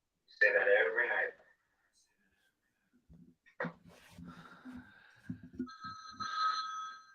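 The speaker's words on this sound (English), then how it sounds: "And now the phone's ringing." A telephone rings from a scene in the horror film Maniac Cop, with steady electronic ring tones near the end, after speech and some scattered sounds and pauses.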